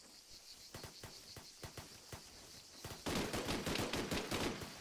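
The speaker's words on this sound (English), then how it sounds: "Those are two different types of gunshots." Gunfire in the Arma 3 Breaking Point game on the Altis map: spaced single shots early on, then a sustained, louder burst of rapid automatic fire from a second weapon type, sharp and fairly close.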